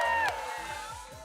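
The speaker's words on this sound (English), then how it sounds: "Let's give him a cheer!" A group of scouts cheering for a leader, a brief burst of whoops and shouting voices that starts loud and quickly fades away.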